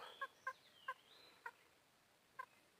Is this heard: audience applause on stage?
no